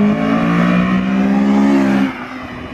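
An 8th-generation Honda engine fitted with Hasport mounts revs with a loud, steady drone, then abruptly drops off as it decelerates, heard near and alone.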